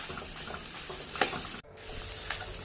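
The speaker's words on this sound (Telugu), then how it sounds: "రైస్ గడ్డలు లేకుండా పొడి పొడిగా కలుపుకుందాం" Egg fried rice is stirred in a hot pan, a steady sizzle broken by scraping strokes of the spatula, close and moderately loud, with a brief pause in the middle.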